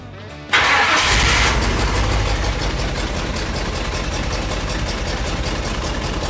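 A Ford F100 truck engine cranks briefly and catches on the first try, then settles into a loud, steady idle close by with no speech.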